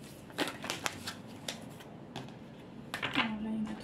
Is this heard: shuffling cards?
yes